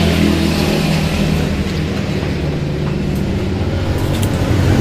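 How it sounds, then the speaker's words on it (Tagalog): An Easyride 150N motorcycle fitted with a modified exhaust runs loud and close, a steady continuous engine roar with a deep low rumble that holds throughout and shows no distinct rev peaks. "basic yung tunog nitong exhaust na napili ko"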